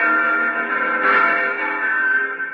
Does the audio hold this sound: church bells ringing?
yes